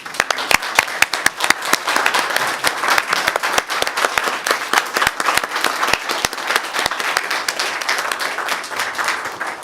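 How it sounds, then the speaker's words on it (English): An audience at a city council meeting applauds the finance staff with a sustained burst of dense, even clapping from a modest crowd in a hall, steady throughout with no talk on top. "we can give them a round of applause"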